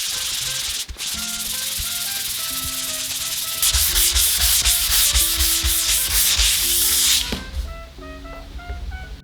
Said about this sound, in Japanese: 次にこの320番の紙やすりでサンディングしていきます